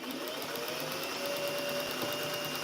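A sewing machine locking a stitch at a quilt seam intersection, a steady close mechanical hum with a faint repetitive needle chatter, continuous and unbroken.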